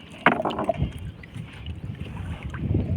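A boat paddled upstream against a strong river current, with a sharp splash of the paddle entering the water near the start, then steady rushing water and wind noise over the microphone.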